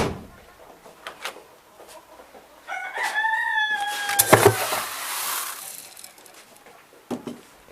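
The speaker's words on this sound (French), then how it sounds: "Les poules qui sont bien en train de se régaler. Là, les coqs qui vont aussi bientôt se régaler." Hens and roosters feeding: a rooster crows loudly in the middle, set among scattered clucks, pecking and knocks.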